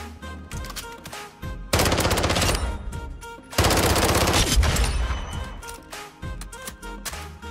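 Loud bursts of automatic gunfire from a gun in the video game Warzone 2.0. Rapid rattling volleys are separated by short, quieter gaps.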